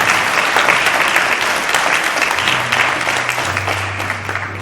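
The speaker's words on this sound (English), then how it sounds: "please, once again, a round of applause for Bailey Barrett" A crowd applauds steadily at a pageant, dense clapping that fills the space and gradually tapers off, with a low hum emerging underneath toward the end.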